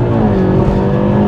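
Stage 2+ Audi S3 8P tuned to 362 bhp accelerating hard on a drag launch, a loud, steady engine roar with a strong low drone filling the whole short moment, no talk over it.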